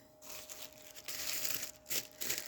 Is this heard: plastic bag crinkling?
yes